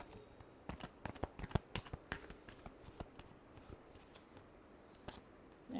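Tarot cards being shuffled by hand, close and quiet, with a run of quick, crisp riffling snaps and taps in irregular bursts.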